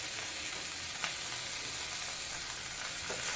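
Coriander, mint leaves and cut green chillies sauté in oil, giving a soft, continuous sizzle with faint stirring scrapes, quiet and even throughout.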